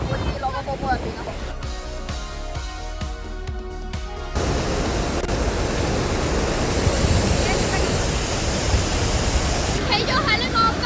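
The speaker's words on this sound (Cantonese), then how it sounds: "嗰啲瀑布嘅風好大好大" Iguazu Falls roars in heavy rain with strong wind, a dense continuous rushing wash that swells louder midway, close and overpowering with wind buffeting the microphone, while music plays briefly at the start.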